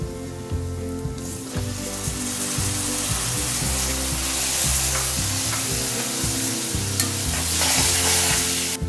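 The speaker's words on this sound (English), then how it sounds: "Just mix this well and then add a bowl of chopped tomatoes." Chopped tomatoes in frying masala with garam masala and coriander powder, a loud, continuous crackling sizzle as they are stirred, the spatula's scraping and clatter running through it close up and without speech.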